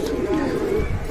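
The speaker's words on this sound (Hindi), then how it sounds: "तो ये कुछ कबूतर ये देखें ऊपर बैठ गए हैं जाके।" Pigeons coo close by in a short, soft, throaty burble over a low rumble of background noise, with no talk.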